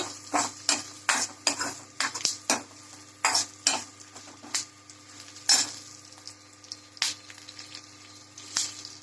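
Garlic sizzling in oil in a pan for garlic rasam, with dried Byadgi chillies already in, and a spoon stirring and scraping in repeated short bursts over a steady frying hiss.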